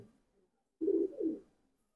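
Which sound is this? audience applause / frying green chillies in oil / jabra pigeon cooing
jabra pigeon cooing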